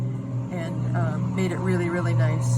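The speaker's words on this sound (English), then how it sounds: "Sorry about the car noise." Cars pass along a street, a low steady traffic rumble running under continuous close talking.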